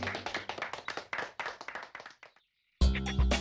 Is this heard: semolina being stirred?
no